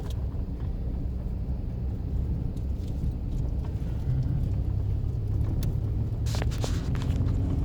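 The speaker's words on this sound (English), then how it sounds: "So we're driving a truck at the moment" A steady low engine rumble and road noise from inside a moving truck, continuous and even throughout.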